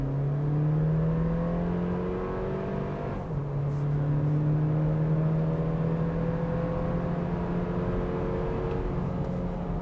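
A 2025 Toyota 4Runner TRD Pro's four-cylinder engine pulls hard at full throttle off-road, a steady loud drone rising in pitch, briefly dipping at a gear change, then climbing again without letup.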